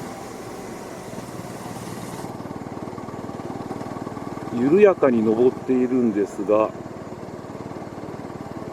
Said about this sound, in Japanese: 30キロ台後半であればエンジンはぐずることもなくトントンとリズムを刻みながら快調に回っているといった感じ